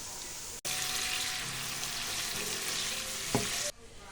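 Minced meat sizzling loudly in a frying pan, a dense continuous crackle starting abruptly after a short pause, with a brief clink of stirring near the end before it cuts off; no voices.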